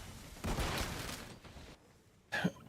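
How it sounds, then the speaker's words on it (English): Grenade blasts in a Call of Duty match heard through a headset, two muffled bursts of explosion noise, the first broader and the second short and sharp, moderately loud. "Oh my goodness, grenades everywhere."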